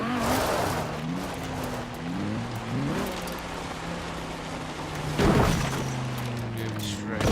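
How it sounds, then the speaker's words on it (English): A tuned car in Forza Horizon 4 drives along with its engine note rising and dropping through gear changes. A brief louder rush cuts in midway, and a voice talks over the engine. "take it for a little drive and see how it feels"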